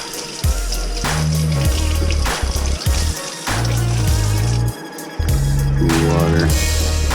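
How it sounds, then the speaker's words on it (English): Morel mushrooms rinsed under running tap water, a steady trickle and splash heard beneath prominent background music. "Rinse it off."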